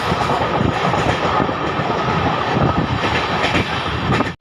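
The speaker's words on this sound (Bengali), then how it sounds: "আমাদের ট্রেন এখন পার করছে চাপড়া স্টেশন" Amrit Bharat Express rumbling loudly through Chapra station, with steady dense wheel noise and rhythmic clatter over the rails, close and continuous throughout.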